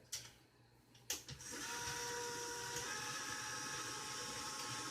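Stand mixer running steadily as it combines salt into whole wheat flour for bread, a couple of clanks at the start, then a constant close motor whir with no talk.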